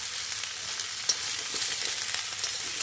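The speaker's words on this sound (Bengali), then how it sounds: "দেখো ভালো করে কষিয়ে নিচ্ছি" Fish fries in a pan with onion and garlic, giving a steady, bright sizzle with a few faint spoon taps and scrapes, and no voices.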